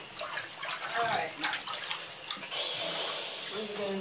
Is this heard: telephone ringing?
no